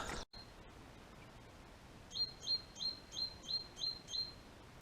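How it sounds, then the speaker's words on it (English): A small bird chirping on an outdoor walk, giving about seven rhythmic high tweets in a steady series after a brief knock, clear against quiet background noise. "Little Tweety bird up there."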